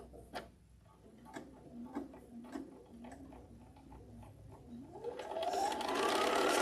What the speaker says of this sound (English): I'm going to put my needle down right there and then start sewing